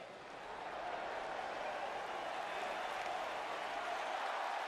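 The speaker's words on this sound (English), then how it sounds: "And Michael, it sounds to me like this crowd already picked the one who they want to win this match." A large wrestling arena crowd before a one-on-one match gives a steady, distant roar of cheering and applause that swells slightly and then holds.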